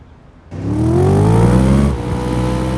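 A car engine revs up on a car care show, kicking in after a quiet start with a rising, whining roar that climbs in pitch, then eases back to a steady loud idle hum.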